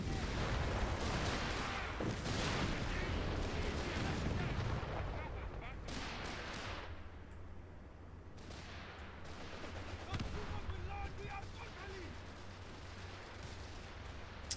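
Rumbling explosions from a bombing run in a multiplayer combat video game, dense booms and crackling blasts rolling continuously, loud at first and easing slightly, with occasional sharper hits.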